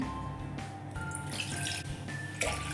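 Water runs and splashes steadily into a bowl at close range, with small bright trickling sounds throughout.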